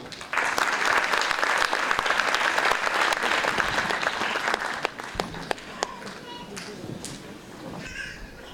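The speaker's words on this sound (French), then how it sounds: "Je vous demande encore de les applaudir parce que c'est vraiment émouvant." Audience applause for a children's choir at a New Year's wishes ceremony, dense sustained clapping for about five seconds before thinning into scattered claps, with faint voices mixed in.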